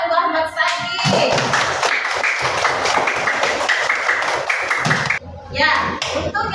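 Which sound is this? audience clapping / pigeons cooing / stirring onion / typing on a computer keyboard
audience clapping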